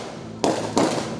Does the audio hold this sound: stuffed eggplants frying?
no